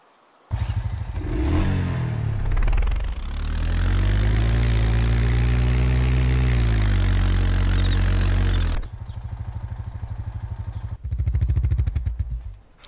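An ATV engine in the video game DayZ revs up loudly, holds a sustained high drone for several seconds, then drops back to a rough idle that briefly revs again near the end, heard close with no talking.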